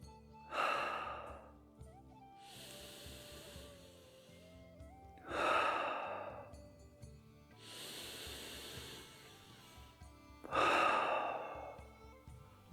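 Three deep breaths taken during a daily energy routine, each a loud, breathy inhale-exhale swell spaced a few seconds apart, close to the microphone with a soft hum underneath.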